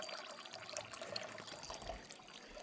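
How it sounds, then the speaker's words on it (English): A garden water fountain splashes steadily in a quiet, continuous wash of falling water, faint and unbroken, with no voices. "Look at splashing. So we moved this fountain in here this year."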